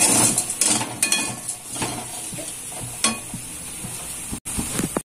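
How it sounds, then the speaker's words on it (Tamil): Plantain (vaazhakkai) fry crackles and sizzles loudly in a pan, with several scraping stirs of a spatula against the metal, close and busy, no talking. "சலசலன்னு சத்தம் கேட்கறது பாருங்க, இந்த மாதிரி சலசலன்னு சத்தம் கேட்கற அளவுக்கு பண்ணணும்"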